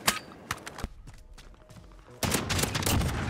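Shotgun blasts in Call of Duty Modern Warfare, an Origin 12 fired without attachments: several sharp, loud reports in quick bursts near the start, a short lull, then a dense continuous stretch of rapid gunfire.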